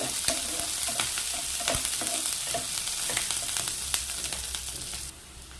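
Vermicelli fries in oil with green chillies and onions in a pan, a steady loud sizzle broken by frequent scraping stirs of a spoon, close and continuous throughout.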